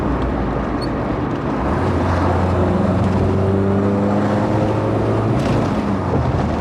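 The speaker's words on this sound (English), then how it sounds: "that exhaust note sounds immaculate" A classic MG Metro's engine and exhaust drone steadily from on board while driving, loud and continuous, with the engine note rising in pitch partway through as it pulls harder.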